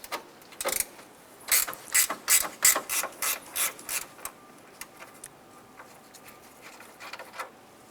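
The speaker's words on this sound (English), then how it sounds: "We have a 10mm bolt here for our headlight assembly. Go ahead, loosen and remove that." A ratchet loosens a 10mm headlight assembly bolt on a 2007-2012 Nissan Versa, a close run of about a dozen sharp, even clicks in a steady rhythm, followed by a few scattered softer clicks.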